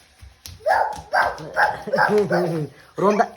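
A voice imitates a big dog barking, several gruff woofs in a row with short pauses, close and loud.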